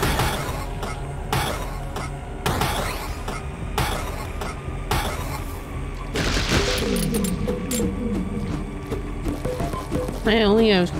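Bursts of gunfire ring out in the alien game Dap, a string of sharp separate shots spaced roughly every second, followed by a denser crackling flurry and an electronic warble, with people talking over much of it.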